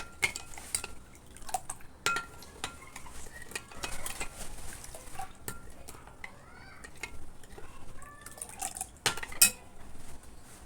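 A spoon clinks and scrapes against a bowl while stirring sugar into water in irregular bursts, with faint liquid swishing between taps and no talking.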